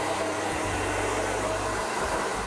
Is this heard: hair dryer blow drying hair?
yes